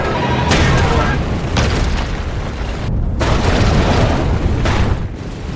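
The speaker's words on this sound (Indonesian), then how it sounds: "terjadi ledakan hebat di sana dan puing-puing bangunan terlempar jauh ke kota" Deep, heavy booms of a large nuclear reactor explosion in the film Pandora (2016), with rumbling debris, several surges across the clip, loud and cinematic.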